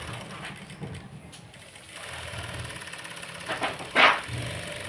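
A sewing machine stitches a model blouse sleeve in a rhythmic mechanical whir, with a sharper, louder burst of stitching near the end.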